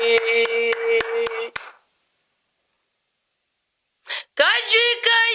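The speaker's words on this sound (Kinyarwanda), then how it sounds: "akajwi ka Yesu ndagahaye amashyi" Rhythmic hand clapping in a steady beat accompanies a Kinyarwanda worship song, the claps sounding under singing voices before a short silence, after which the singing picks up again.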